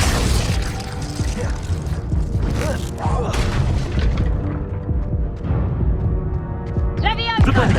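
An icy Glacius spell cast in combat in Hogwarts Legacy, a dense crackling, shattering burst over continuous battle noise and rumbling booms, with in-game voices shouting over it.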